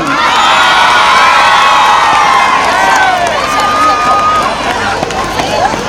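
Children cheering and shouting at a school sports meet race in Chennai, a loud, continuous crowd of high voices with whoops, close and sustained throughout.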